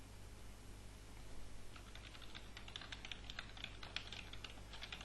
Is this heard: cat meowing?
no